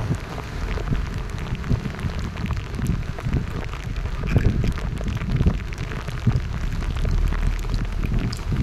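Heavy rain pours down steadily during street flooding, a dense, loud hiss with close spattering drops throughout.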